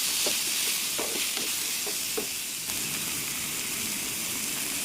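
Chopped tomatoes fry with wilted onions in a pan, a soft continuous sizzle broken by a few light stirring knocks, no voices.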